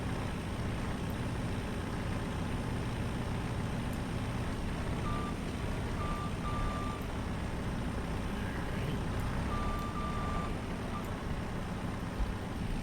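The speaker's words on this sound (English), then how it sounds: "Go ahead and get the skid steer shut off real quick" A skid steer on a farm sounds intermittent reversing beeps over a steady, loud diesel engine rumble, with a few short bursts of beeping.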